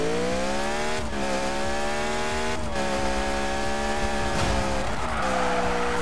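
A Beck Kustoms F132 drifting in Need for Speed 2015, an 800-horsepower car held at steady high revs while its tires squeal continuously, with brief dips as it shifts, loud and unbroken throughout, no talk.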